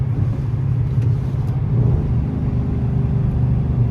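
A cammed Chrysler 300's engine rumbles with a deep, steady growl up close on a wet, snowy night, holding a low throaty idle with slight swells in revs before a launch.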